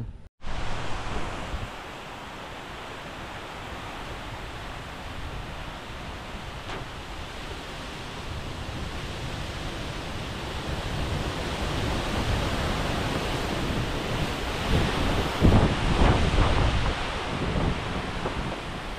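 Heavy rain pours down outdoors in a steady, dense roar that holds for the whole stretch and swells a little louder toward the end, with no talk.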